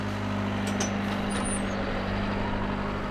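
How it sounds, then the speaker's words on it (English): Truck engine idling during hay loading for ranchers, a steady low hum with a brief hiss like an air brake, close and fairly loud, with no voices. "Travis is loading a truck with hay to send to ranchers in Georgia"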